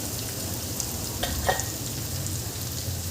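Spices such as turmeric, chilli powder and coriander powder sizzle in hot oil for dum aloo, a potato curry, with an even, close crackle and a couple of brief scraping stirs in the middle.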